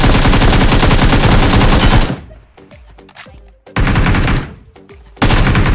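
Automatic gunfire in a video game, rattling in dense, loud bursts: a long stream at the start, then a short burst and a final one after brief lulls.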